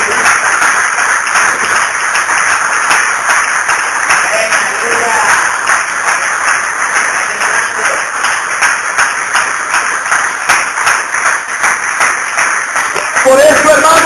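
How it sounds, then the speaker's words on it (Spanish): Loud, steady applause from a church congregation at an evangelical service, a dense continuous roar of clapping that lasts throughout, with voices mixed into the crowd noise. "Dele aplauso fuerte a este rey"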